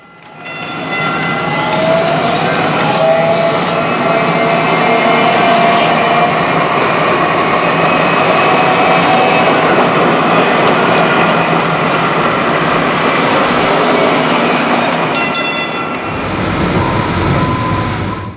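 A DART Orange Line light rail train runs above ground through downtown Dallas, a loud, steady rumble and rail squeal with clattering wheels, close and continuous, easing off briefly near the end.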